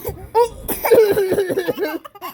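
A young girl, hospitalized and coughing playfully, lets out a few short close coughs and throat-clearing sounds mixed with giggly vocal bursts.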